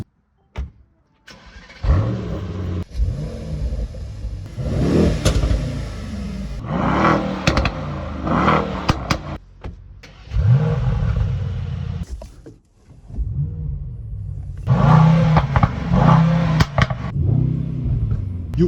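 A 2020 Mercedes-AMG E63 S with a particulate filter cranks and fires up, then revs loudly in several blips and sustained roars from close range, settling between pulls, with no talking.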